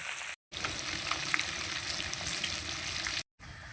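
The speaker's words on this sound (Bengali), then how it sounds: "ওদিকে তো মাছ ভাজা বসিয়ে দিয়েছি" Catla fish sizzling in hot oil, a constant bright crackle heard up close, with brief cuts to silence at the start and end.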